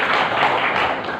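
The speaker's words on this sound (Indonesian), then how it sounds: "Kita kasih tepuk tangan boleh." Church congregation clapping together during a sermon, a steady dense patter of many hands that holds evenly through the short stretch with no voices on top.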